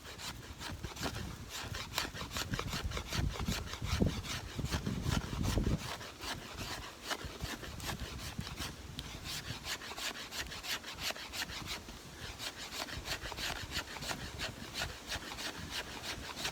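Dry hickory wood being shaved into fine, fluffy shavings, a steady rapid rasping and scraping that continues close up for the whole stretch, with a slightly heavier patch early on and no talk.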